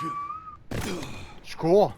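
A steady whistled tone sounds in Resident Evil Requiem, followed by a sharp burst of noise and then speech from a player.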